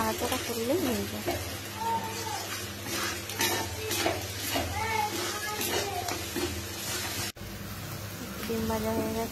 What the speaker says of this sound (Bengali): লাস্টে ডিমটা ভেজে নিচ্ছি।